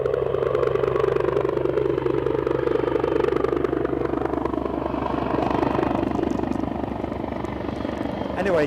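Helicopter arriving at Aberdeen heliport, a loud, continuous rotor chop and engine whine filling the whole stretch, holding steady and then easing slightly toward the end.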